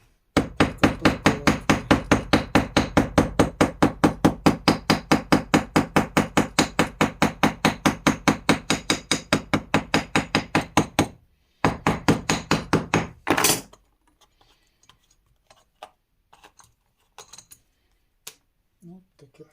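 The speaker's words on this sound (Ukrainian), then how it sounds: "Ну а потім так молоточком потрошки постукуємо." Rapid, steady tapping of a small hammer on a Kentavr 244 S mini tractor's side-shift gearbox, dozens of quick sharp knocks in a fast even rhythm, close by, then a pause, one last burst and quiet.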